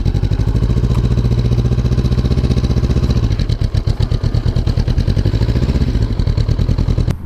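A small Honda Monkey motorcycle idles close by with a steady, loud low engine rumble, the throttle dipping and rising briefly midway as it rolls a short distance across a road.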